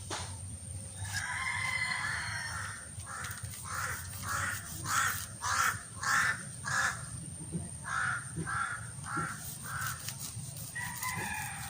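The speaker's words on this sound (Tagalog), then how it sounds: "Mayroon na naman uwak." A crow caws repeatedly in a steady series of harsh calls, fairly close, over a low outdoor background hum.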